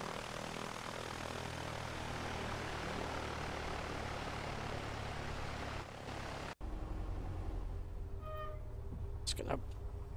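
Piper Cherokee propeller aircraft taxiing in the FSX flight simulator, a constant droning engine hum and propeller whir, then an abrupt cut to a quieter cabin hum with a few tonal beeps and a voice.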